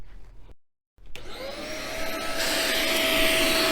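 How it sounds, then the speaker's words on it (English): A Bissell vacuum cleaner starts up after a brief silence, its motor spinning up into a loud, close, steady roar with a high whine that holds to the end. "let's listen to Darth Vader's vacuum cleaner"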